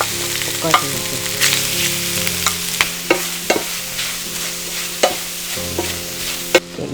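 Squid stir-fried in a hot pan for a spicy squid dish, sizzling continuously with repeated sharp clacks and scrapes of a utensil tossing the pieces, close and loud with no talk.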